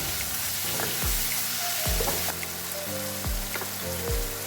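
Masala with tomato frying and being stirred in a pan for a quail egg roast, giving a loud, continuous crackling sizzle with several dull knocks of a spoon against the pan.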